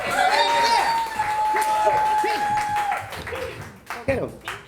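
An open-mic poetry audience at the Loisaida Center applauds a performer, with scattered clapping and cheering from a crowd mixed under a host talking over it.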